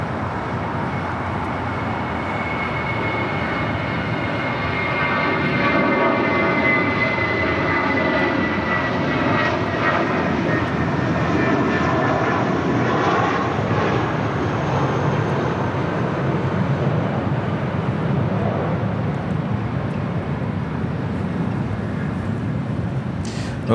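A Boeing 747 being pushed back and towed at LAX fills the air with a loud, sustained engine whine and roar, with rising tonal harmonics in the middle and a steady rumble underneath.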